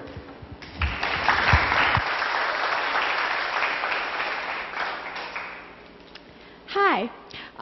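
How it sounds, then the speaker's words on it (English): An audience applauds a speaker at a reading campaign event in Bangkok, loud dense clapping that swells and then tapers off, followed by a short burst of speech-like sound near the end. "Please give a warm round of applause for Pier"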